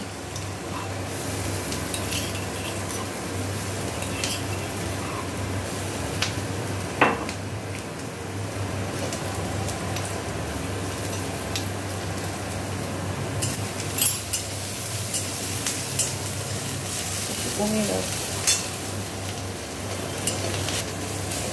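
Onion and crushed garlic sizzling in a pan while being stirred, a steady close frying hiss broken by occasional scrapes and clinks of a utensil against the pan.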